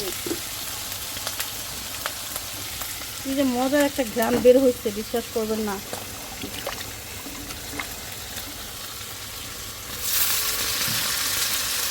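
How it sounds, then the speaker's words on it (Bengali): River fish frying in a pan hisses steadily at close range while a person talks over it for a couple of seconds, and a brighter burst of sizzle rises near the end. "মাছটা সুন্দর ভাজা হয়েছে"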